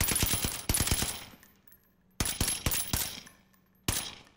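Bursts of automatic gunfire from a BREN and STEN in the video game Warzone Pacific on the Caldera map, fired in rapid strings of loud cracks that come in three separate volleys with short gaps between them.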